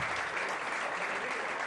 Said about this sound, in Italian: Io vorrei fare un grande applauso anche a loro